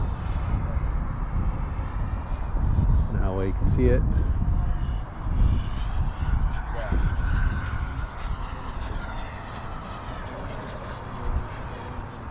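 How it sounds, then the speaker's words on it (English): A small jet aircraft flies overhead, its steady engine roar filling the background while a person talks over it. "there's a jet up there flying around"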